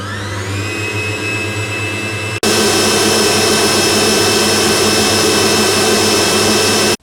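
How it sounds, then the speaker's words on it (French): An electric mixer beats lemon-tart meringue until it cools, a loud steady motor whine that jumps to a harsher, fuller roar partway through and runs on continuously with no voices. "Et battre jusqu'à complet refroidissement."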